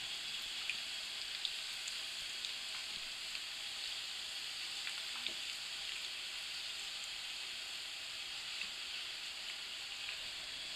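Puri paratha frying in ghee over a high flame, a steady soft sizzling hiss with faint scattered crackles, fairly quiet and uninterrupted, no voices.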